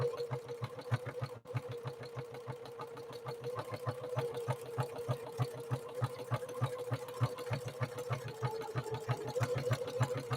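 A Necchi NE30 sewing machine stitching through four layers of denim, its needle hammering in a fast, even rhythm over a steady motor hum throughout.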